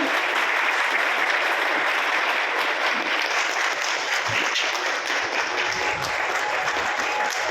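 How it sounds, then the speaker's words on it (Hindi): An audience at an official event gives guests a hearty welcoming applause, a continuous, evenly loud wash of many hands clapping that carries on steadily throughout. "अभी हमारे अतिथिगण यहाँ पर पधारे हैं, इनके लिए जरा जोरदार तालियों से हम उनका स्वागत करते हैं"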